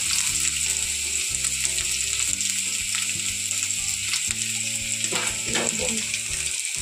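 Chopped carrots and capsicum sizzle and hiss steadily in a hot pan for chow mein, a continuous close frying noise with occasional stirring scrapes and rattles.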